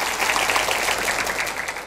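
A Vietnamese TV show studio audience gives a dense, continuous round of applause, loud and close throughout with no voices.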